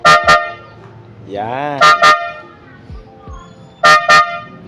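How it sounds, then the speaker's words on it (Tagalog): An ultrasonic JDM car horn on a Honda Civic honks in short double bursts, loud and close, repeated three times, with someone speaking briefly between the honks. "Sasampulan natin ng busina gamit tong Oppo para walang filter."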